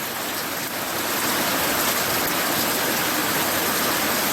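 Steady rain falling, probably onto a roof or water tanks, a dense, even hiss of drops that holds loud and unbroken throughout with no voices.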